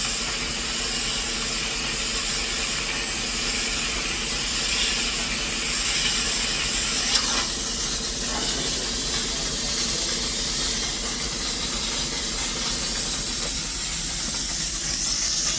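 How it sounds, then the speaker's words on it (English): A handheld steamer blows hot steam into a rag on a limestone countertop, making a loud, continuous hiss that holds steady throughout. "Okay, I'm doing a hot steam in a rag."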